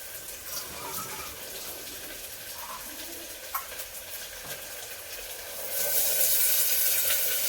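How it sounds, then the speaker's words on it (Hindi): Water pours off soaked peas while draining in a home kitchen as Indian veg pulao is cooked, a steady rushing splash that swells louder near the end, with no talking. "पानी निकाल दूँ इनका।"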